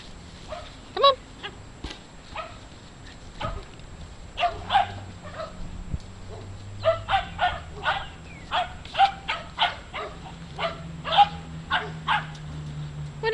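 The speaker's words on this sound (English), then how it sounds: "What is that puppy doing, Luke?" A puppy gives a long series of short, sharp barks and yips, sparse at first and then coming rapidly and unevenly, fairly close outdoors over a low background hum.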